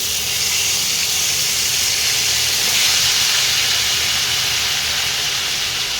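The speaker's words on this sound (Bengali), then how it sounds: "তেলটা গরম হয়ে গেছে, এবার আমি আলুগুলোকে আস্তে আস্তে দিয়ে দেবো।" Large chunks of potato sizzle in hot oil for a Bengali aloo rasa. A steady, bright frying hiss holds at an even loudness the whole time, close up, with no talk over it.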